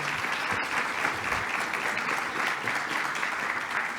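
An audience at a national public budget seminar applauds in a dense, even wash of clapping that holds steady throughout, with no one speaking over it.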